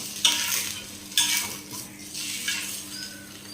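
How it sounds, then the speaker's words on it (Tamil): An egg frying in a pan as it is flipped with a utensil, three sharp scraping bursts over a continuous close sizzle with light metal clinks. "முட்டையை திருப்பி போட்டுடுறேன்"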